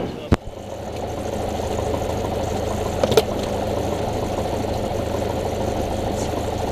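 A light aircraft engine idles steadily on the ground before shutdown, a low, even drone with a couple of sharp clicks near the start and midway.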